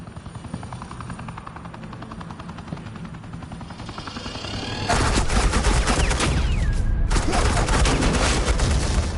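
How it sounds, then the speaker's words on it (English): Heavy gunfire in a Batman video game, suppressing fire from Agent Quinn's side, breaking out loudly after a quieter rumbling stretch and continuing as a dense, sustained roar of shots with a whining sweep partway through. "suppressing fire"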